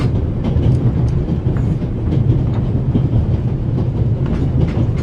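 A moving train in the game The Raven Legacy of a Master Thief: a steady, close rumble with rhythmic clickety-clack of wheels on rail joints, continuous and loud, with no talk.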